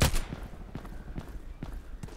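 Single gunshots ring out at steady intervals during shooting training in Contract Wars, a handful of fairly faint, moderately distant reports over a low background hum.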